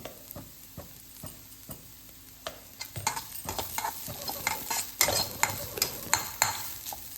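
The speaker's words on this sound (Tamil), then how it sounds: "இது வந்து பச்சை வாசனை போகிற வரைக்கும் லைட்டாக வதக்கி விட்டாச்சு." Ground green chilli, coconut and cumin paste is sautéed in a pan, a low sizzle under repeated spoon taps and stirring scrapes that grow busier and louder toward the end.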